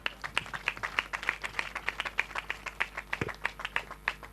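An audience at a church inauguration claps in a fairly steady rhythm of distinct, moderately loud hand claps, a small crowd applauding together without pause.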